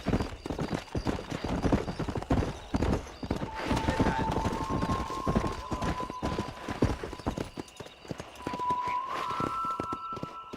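Hooves pound steadily as a horse is ridden at speed in Red Dead Redemption, a close, loud rhythmic clip-clop running throughout with a sustained tone rising over it midway.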